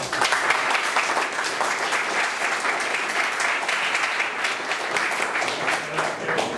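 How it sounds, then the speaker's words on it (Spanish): A seated audience at an IEEE Day event breaks into sustained, dense applause for an architect being introduced. The clapping is steady and loud throughout, with a few voices faintly mixed in. "Un fuerte aplauso para él."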